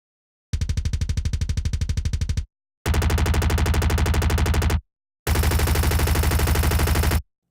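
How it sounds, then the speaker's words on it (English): A designed chain gun effect built from a heavily distorted kick drum layered with clicks fires in three loud, rapid bursts of about two seconds each, separated by short silences, with no voices. "The chain gun is made of a kick sound heavily distorted and a bunch of clicking sounds layered onto that."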